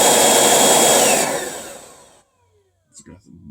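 A small handheld vacuum cleaner, the kind used for a car, runs with a loud steady whine for about two seconds, then winds down to silence before faint talk begins.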